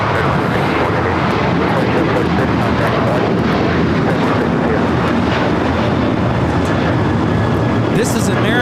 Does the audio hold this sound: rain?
no